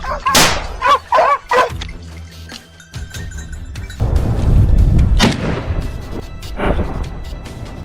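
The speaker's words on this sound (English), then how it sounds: "A few precise shots, effective, without unnecessary damage." Rifle shots crack out during a wild boar hunt. Two loud, sharp reports stand out amid dogs barking and rustling ground noise.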